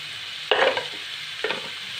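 Fat frying in a pan with masala, turmeric and salt, heard as two short bursts of sizzling and stirring over a quiet background hiss.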